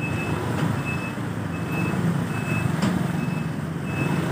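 Truck reversing down a very narrow lane, its backup alarm beeping in a steady even rhythm over a loud idling engine rumble, close by, with no talk.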